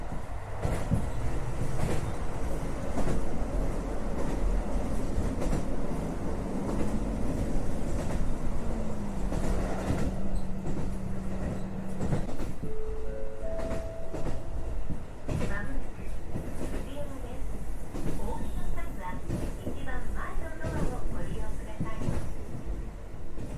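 A Rumoi Line train runs along the track past a closed station site in late autumn, a continuous rumbling cabin drone with a sustained tone, a short rising note midway, and scattered clicks and rattles.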